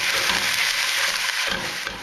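Meat browning in refined coconut oil in a pan, a steady close sizzle with soft stirring scrapes that eases slightly toward the end, no voices.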